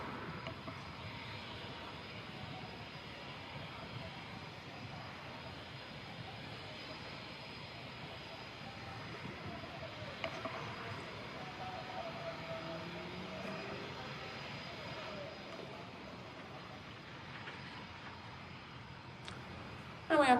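An Embraer KC-390 military transport lining up on runway 06 at an airshow, a steady distant engine drone and rumble that holds evenly throughout, with faint background murmur.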